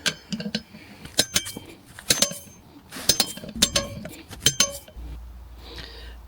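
Metal bolts clink and rattle sharply while being fitted to a new brake disc on a Kawasaki ZX9R motorcycle, a series of close, bright taps and jangles at irregular intervals with no talking.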